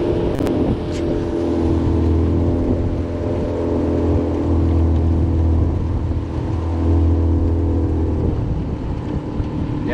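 A motorboat engine drones steadily nearby, with a low humming pitch and some wind noise over the microphone.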